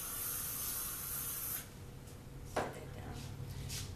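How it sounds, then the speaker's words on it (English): White Teeth Embrace Luxury hairspray is sprayed onto hair in a salon, a close steady hiss lasting about a second and a half before it stops, followed by faint handling sounds. "Take your hairspray, and I'm using the White Teeth Embrace Luxury Hairspray."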